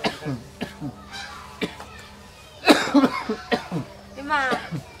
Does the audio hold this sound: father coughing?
yes